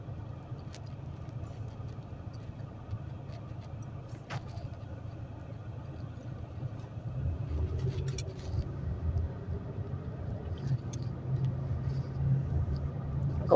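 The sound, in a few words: street traffic with cars passing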